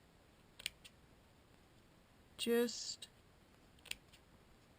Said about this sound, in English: I use a pair of scissors